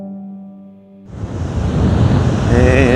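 Ocean surf on a rugged Australian beach as the tide goes out, a loud rush of breaking waves and wind noise swelling in after a brief quieter moment.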